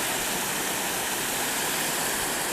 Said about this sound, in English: Here's the waterfall from chlorine contact tank number 2.